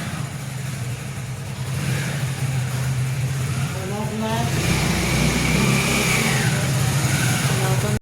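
A motorcycle engine idles and then revs up as the bike is brought indoors. The motor hums steadily close by and grows louder in the second half, with voices talking over it.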